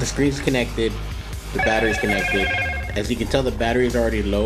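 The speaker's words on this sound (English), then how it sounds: "Please excuse the beeping." A phone beeps with a steady repeating electronic tone during a fob battery replacement, sounding through a man's close, continuous talk.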